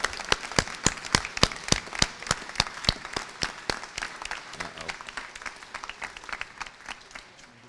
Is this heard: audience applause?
yes